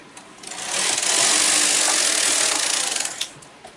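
A knitting machine carriage is pushed across the needle bed to knit a row back, giving a loud, steady mechanical whirring rattle that rises quickly, holds for about two and a half seconds, then stops with a small clack.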